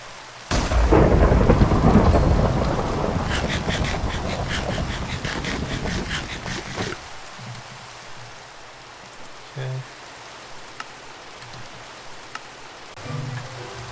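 Minecraft rain and thunder: a loud, broad rumble of thunder swells over the first seven seconds over steady rainfall, then eases into a quieter patter of rain with a few brief bumps.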